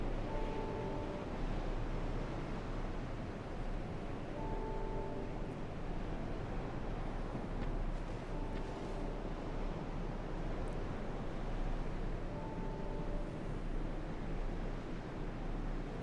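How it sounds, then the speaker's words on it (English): Ocean waves in Dark Souls 2 roll in as a steady, breathy wash with a windy, airy quality, faint distant tones drifting over the constant surf and no voices. "Sounds of the waves."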